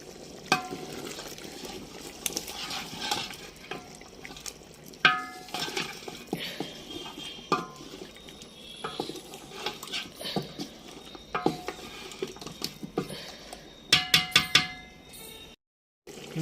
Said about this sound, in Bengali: দিয়ে এবার খুব ভালো করে নেড়ে দিব।